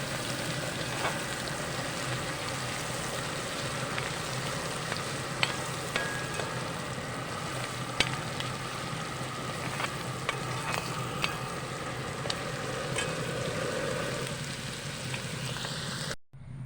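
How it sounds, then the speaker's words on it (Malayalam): Prawns frying in oil for a prawn biryani, a steady dense sizzle with occasional sharper pops and crackles running continuously and alone, with no talk, before cutting off at the end. "ചെമ്മീൻ ഒരുപാട് വറുത്ത് ഫ്രൈ ആക്കണ്ട"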